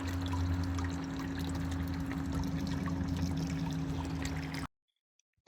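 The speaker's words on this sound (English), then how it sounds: "With all of those open, all the fluid is draining." Fluid draining out of an opened QuickDraw Max cabinet on an agricultural sprayer, a steady pouring trickle with a constant low machine hum behind it, stopping abruptly near the end.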